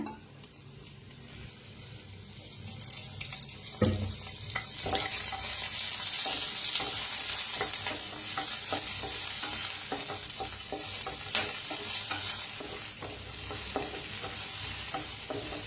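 A Mysore dosa roasts in a little oil on a pan, making a continuous close sizzle with crackling pops and one scrape early on, and no voices.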